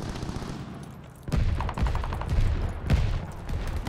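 Gunfire crackles in a multiplayer shooter game as sharp shots and short bursts, with a busy rumbling battle backdrop underneath.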